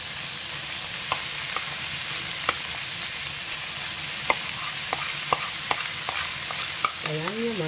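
Squid stir-fry being stirred in a frying pan with seasoning over medium heat, a steady close sizzle broken by sharp scraping clicks of the spoon against the pan and a brief squeak near the end.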